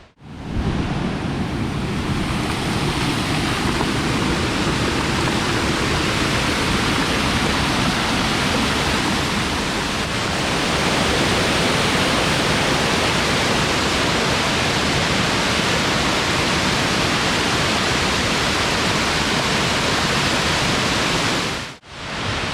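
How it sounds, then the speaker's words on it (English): Virgin Falls in White County, Tennessee, pours over rocks in a constant, loud, broadband rush of falling water that holds steady throughout before cutting off abruptly at the end. "and then flowing over the top of the falls"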